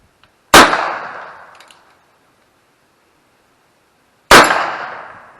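Two loud gunshots at an outdoor shooting range, about four seconds apart, each a sharp close crack with a ringing metallic tail as a metal target is struck.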